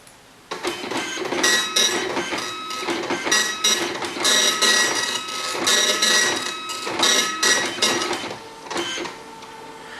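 A 1330 dot matrix printer prints a single sheet with loud, close bursts of buzzing print-head chatter broken by short pauses as the paper feeds.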